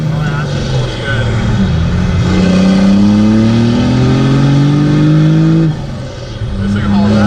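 A Cummins diesel truck, a sleeper build, pulls hard with a rising engine note that climbs through the gears, loud and close from inside the cab, then drops off before building again; people talk in the cab.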